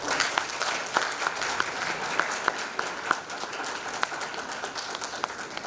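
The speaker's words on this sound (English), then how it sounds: "Graduates, please give them a round of applause." Graduates at an honours and higher certificate graduation ceremony give a round of applause. The clapping is steady and fairly close, with individual sharp claps standing out from the continuous patter throughout.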